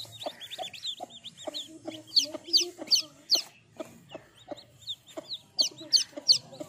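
An Aseel hen hatching eggs at home in Punjab clucks in repeated low bursts while her chicks peep in sharp, high chirps, all close by and fairly soft.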